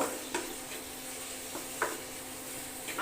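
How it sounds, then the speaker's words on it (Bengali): Ginger and garlic paste sautéing in a pan for a chicken and potato curry, a soft steady sizzle broken by a few sharp spoon scrapes against the pan, quiet and close. "আদার পেস্ট আর রসুনের পেস্ট এটার মধ্যে দিয়ে এখন ভালো মতন কষিয়ে নেব"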